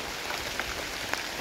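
Rain patters down outdoors among trees, a continuous soft hiss with a few sharper drop taps, steady and unaccompanied by voices.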